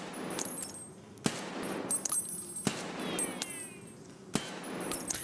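Three separate sharp shots from a TX-15 assault rifle in Escape from Tarkov, fired at chest height at a 10 to 15 meter range. The cracks are spaced well apart and stand out over a steady low ambient bed.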